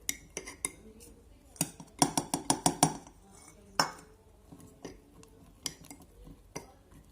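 Cupcake ingredients being mixed in a bowl: a utensil clinks and taps against the bowl in irregular strokes, with a rapid cluster of sharper knocks in the middle, close and fairly soft.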